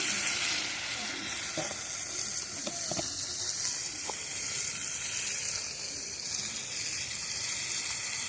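Chicken necks frying in a pot over an outdoor fire for Jamaican yaad-style cooking, a steady bright sizzle of hot oil running throughout with a few faint clicks and knocks of utensils.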